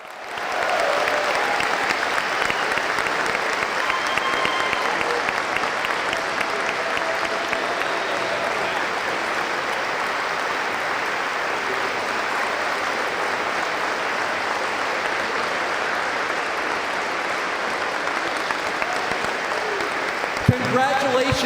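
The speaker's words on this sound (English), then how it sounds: "How about one big, solid Buffalo round of applause for all of our inductees?" A large banquet audience at the 2017 Greater Buffalo Sports Hall of Fame ceremony applauds its inductees, with dense, sustained clapping holding steady at full strength for about twenty seconds and voices mixed into the roar.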